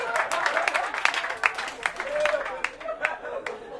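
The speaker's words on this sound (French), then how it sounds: "On applaudit pour les gouvernements" Applause from a comedy club audience, scattered claps rising and falling in bursts with voices mixed through it.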